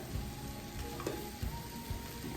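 Cherry tomatoes with olives, capers and garlic sizzle in a hot pan for a pasta sauce, a soft steady frying crackle with a few small pops and stirring sounds, close and without talk.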